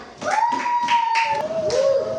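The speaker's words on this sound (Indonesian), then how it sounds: "Tepuk tangan dulu" Several rounds of children's hand clapping in a primary school classroom come in quick bursts while a voice sustains a sung or chanted tone over them.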